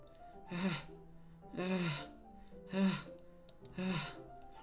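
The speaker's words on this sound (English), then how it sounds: "Sounds like breathing. A sharp inhale, like someone is sucking the air through their teeth." A sharp, hissing breath drawn in through clenched teeth in the Doki Doki Literature Club video game, heard four times in a slow, even rhythm, close and fairly loud, with no talking.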